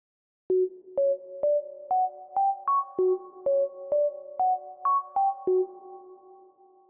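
A dry Sleepy Lead synth plays a clean melodic line of short, evenly spaced plucked tones stepping up and down, soft and clear with no effects or voices.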